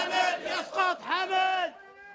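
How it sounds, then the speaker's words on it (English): Crowd of Bahraini marchers at a demonstration chanting in unison, loud rhythmic rising-and-falling shouted phrases from many voices, repeated three times before tapering off. "Tonight, Bahrainis are marching to honor a young man, Fidel Mirza, who died after being injured at a demonstration."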